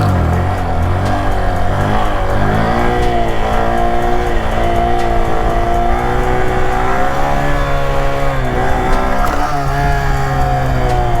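A stunt motorcycle engine idles and revs at about ten miles an hour with the clutch pulled in, a loud, close, continuous motor note rising and dipping in pitch throughout.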